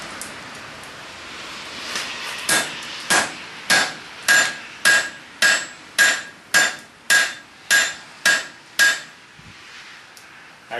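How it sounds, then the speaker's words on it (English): A cross peen hammer, actually an angle peen, strikes the metal end of a piece of stock again and again to shape it into a leaf. The ringing blows land close and loud at a steady rhythm, about a dozen of them, with no talking. "we're going to see if we can turn the end of this thing into something that resembles a leaf using my cross peen"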